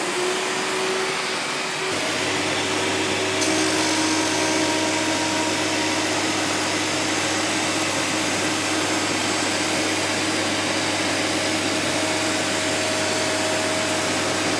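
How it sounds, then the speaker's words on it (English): A dust extractor switches on and runs with a loud, steady drone beside a Jet JPT 310 helical planer thicknesser in a workshop, holding an even roar for the rest of the clip with no talk. "I'm going to turn my extractor on."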